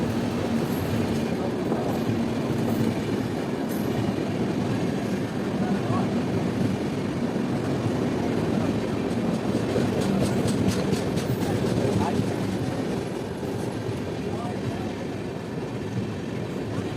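A passenger train rolls through the Jharkhand hills near Dumka, giving a steady, loud rumble with faint rail clatter that holds throughout, with no talk over it.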